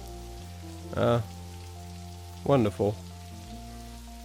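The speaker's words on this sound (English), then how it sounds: "It's raining quite heavily." Heavy rain falls in the video game Necrobarista, a dense, even patter that is steady throughout, with soft sustained musical tones and a few short spoken lines on top.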